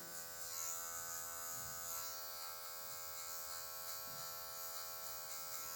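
An electric hair clipper set to 0 low, working with its tip to remove the guideline on afro hair during a mid fade, gives a steady, close buzzing hum that never stops, with no voices.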